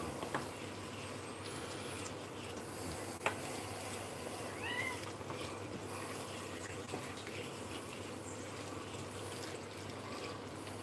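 A cat meows a few times in a home kitchen while fettuccine is being cooked. The short, rising calls are fairly faint over a constant background hiss, with a clatter partway through.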